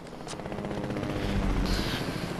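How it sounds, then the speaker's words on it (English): A helicopter approaches in the Fortnite video game with a fast, pulsing rotor chop that grows louder, and sharp gunfire-like pops come in over it. "I hear a heli."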